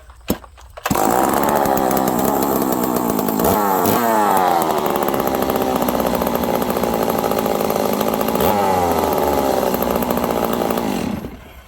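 A ported Stihl 038 Magnum chainsaw fires up after a brief pull and runs loud and steady for about ten seconds, its engine note rising and falling with throttle blips before cutting off near the end.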